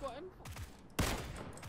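Rapid bursts of M4 assault rifle fire in the video game PUBG crack out in a loud volley, with game sounds around them and a voice talking over parts of it.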